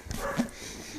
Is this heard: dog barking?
yes